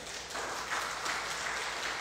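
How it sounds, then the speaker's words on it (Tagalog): A church congregation claps together after a prayer, a brief, moderately loud burst of applause that stays fairly even for a couple of seconds. "Palakpak muli."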